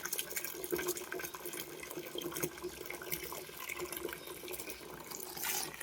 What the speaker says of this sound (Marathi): तर मी पाणी भरते आता स्वच्छ.